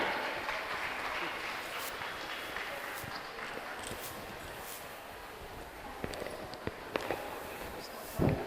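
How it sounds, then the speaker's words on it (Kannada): Steady audience applause after a short stage play, a continuous wash of clapping that carries on throughout, with a few sharper individual claps near the end. "ಬರಲಿ ತಮ್ಮೆಲ್ಲರ ಪ್ರೋತ್ಸಾಹದ ಚಪ್ಪಾಳೆ"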